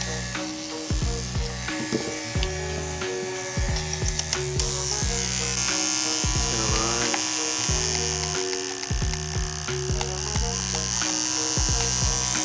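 A repaired Andis Supra ZR hair clipper, its blade freshly sharpened and motor carbon cleaned, runs with a loud, close, buzzing electric hum. The pitch wavers and shifts over several seconds as it is handled.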